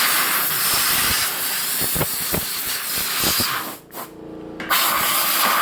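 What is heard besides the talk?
air compressor hissing while blowing and spraying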